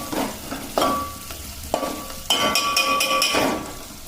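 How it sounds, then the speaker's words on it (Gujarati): Soya chunk curry with spices sizzles in a hot pan while a spoon scrapes and knocks against the metal in several bursts of stirring. "તો વડીનું શાક વઘારી દીધું છે, મસાલા નાખી દીધા છે"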